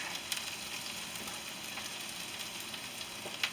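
Philly cheesesteak filling fries in a pan with a steady, even sizzle that holds at a moderate level throughout, with faint occasional crackles and no voices.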